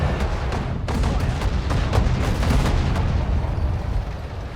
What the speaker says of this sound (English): Oh my god, the shots are going everywhere.